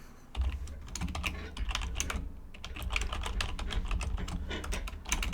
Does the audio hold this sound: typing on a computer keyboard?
yes